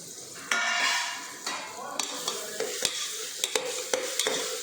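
Ripe tomatoes sautéing with ginger garlic and salt in a cooker for a Chettinad-style mushroom biryani, a close steady sizzle punctuated by sharp metallic taps and scrapes of a ladle against the pot.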